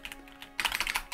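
Computer keyboard keys are hit forcefully. A few scattered taps are followed by a quick, loud burst of close, sharp clacks.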